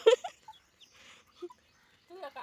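Soft, scattered clucks from chickens nearby in a quiet setting, with short pauses between the calls.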